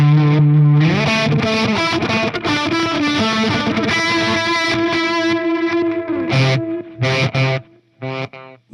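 Heavily distorted electric guitar riffing through a Walrus Audio Mako D1 delay pedal on its reverse setting, loud dense chords and sustained notes with swelling repeats, ending in short choppy stabs.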